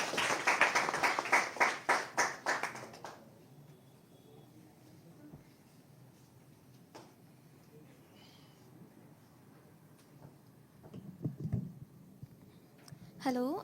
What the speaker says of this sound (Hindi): एक बार जोरदार ताली से स्वागत कीजिए।